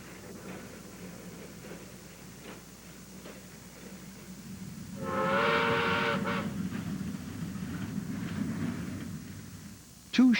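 A Shay-geared steam locomotive works the steep grades of North Carolina's Graham County Railroad, with a steady, rumbling chuff and a loud, drawn-out whistle blast midway through.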